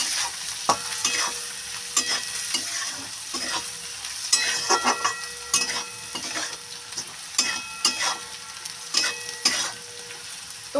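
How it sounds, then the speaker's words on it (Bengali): Food sizzles loudly in a pan as turmeric is stirred in, a spatula scraping and clattering in repeated strokes, stirring briskly throughout. "হলুদটা দিয়ে ভালো করে একটু নাড়ি চাড়িয়ে নিই"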